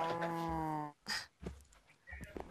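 A Minecraft cow lets out a loud, drawn-out moo lasting about a second, followed by softer game sounds and brief noises.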